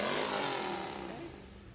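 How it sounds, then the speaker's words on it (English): A Harley-Davidson motorcycle with twin pipes cruising a small-town drag, its engine a rough, rumbling roar that starts loud and near and slowly fades as it passes away, with no talk. "Harley Davidson making some noise."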